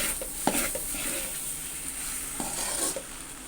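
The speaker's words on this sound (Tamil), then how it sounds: "நம்ம இதையும் சேர்த்து நல்லா கிளறி விட்டுக்குங்க" Egg macaroni with mint leaves stirred in a hot pan, with a steady sizzle broken by several light scraping and clinking strokes of the spoon against the pan. It is close and moderately loud, with no talk.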